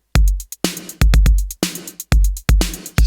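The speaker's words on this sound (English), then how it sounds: "So the drum pattern, if we solo it, sounds like this." A soloed electronic drum loop in a retro 80s synth-pop style, with punchy kicks and bright snare hits repeating in a steady pattern, loud and close with no voices.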